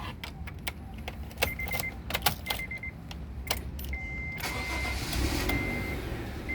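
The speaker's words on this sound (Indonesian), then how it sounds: "sekarang kita nyalakan mobilnya" A 2017 Honda Brio 1.2 RS automatic is started up: a few clicks and short bursts, then the engine cranks and catches around the four-second mark and settles into a steady idle, close and fairly loud.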